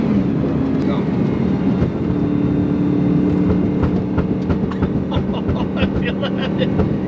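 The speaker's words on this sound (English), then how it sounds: "I'll show you the reflectors in the road. I'm gonna actually drive on them for a minute." A Lamborghini driven across raised road reflectors while changing lanes, with a steady cabin road drone and a quick series of rattling thumps building toward the end.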